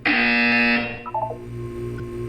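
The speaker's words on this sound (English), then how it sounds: "You will hear a buzzer." A loud, sustained electronic buzzer in Portal 2 drones for under a second, then cuts off, leaving a few faint tonal blips over a low background hum.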